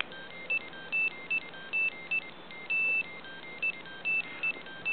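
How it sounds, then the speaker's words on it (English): Nokia ringtone played by a Parallax BASIC Stamp through a small piezoelectric speaker: a thin, beeping melody of short and longer tones in an uneven rhythm over a faint hiss, with no voices. "what I have loaded in here right now is a little program to play Nokia ringtones"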